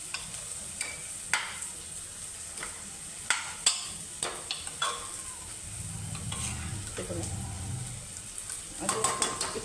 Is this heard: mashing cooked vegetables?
yes